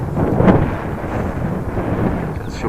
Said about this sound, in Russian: И ветер все встречный идет, холодный сверху идет, спускается вниз.